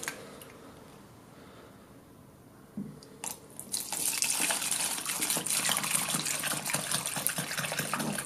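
Cleaning product glugs and gushes as it is poured from an opened 5-litre can into a container for soaking an EGR valve, starting after a quiet lead-in with a couple of clicks, then a steady, fairly close liquid pour.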